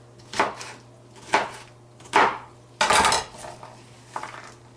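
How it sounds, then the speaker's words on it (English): Knife chopping jalapeno peppers on a board for a homemade sriracha, five separate bursts of cutting strokes a second or so apart, close and fairly loud, with a steady low hum underneath. "I'll be back when I'm done chopping the rest of the peppers."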